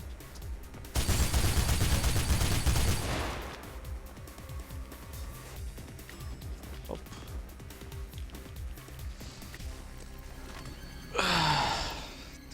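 Sustained burst of machine gun fire in Mirror's Edge, loud and close for about two seconds, followed by scattered game thuds and a later rushing surge; people talk quietly in between.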